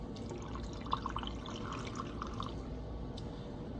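Apple schnapps is poured into a cocktail glass over apple cider, a soft, quiet gurgling trickle running for a few seconds beneath a low background hum.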